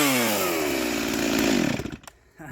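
A rebuilt Stihl 036 chainsaw revs loud and close with a high, rising engine whine, then drops abruptly to near silence before a brief sputter at the end.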